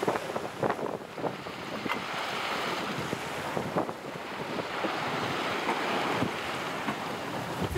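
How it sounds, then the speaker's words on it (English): A sailboat racing toward Ketchikan in about 20 knots of wind: steady gusty wind roar and rushing waves surging against the hull, with periodic splashes, continuous and fairly close with no talk. "Sailing out here, folks. Right out of the gate, we're in at least 20 knots."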